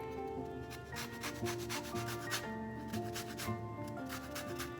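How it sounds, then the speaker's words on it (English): Orange zest being grated on a grater, a steady continuous scraping rub with rhythmic strokes, close and fairly loud, with no talking. "When you grate it, you want to make sure you don't take the white part of it, only the orange"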